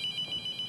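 A phone rings in the horror video game The Mortuary Assistant, a bright electronic trill that pulses rapidly and steadily at moderate volume.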